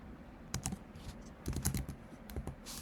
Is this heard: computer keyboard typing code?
yes